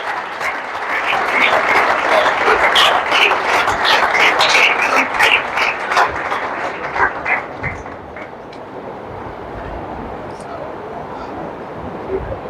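An audience applauds a candidate at a ceremony honouring CGL-2022 final selections at Disha Ayodhya. The clapping is loud and sustained, then thins to scattered claps, and a voice speaks underneath.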